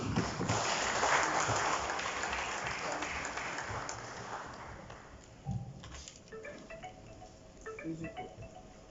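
A hall full of people applauds at the opening ceremony of the 66th CAF meeting in Mauritius. Loud, dense clapping lasts about five seconds, then fades out, leaving a few scattered knocks and thuds.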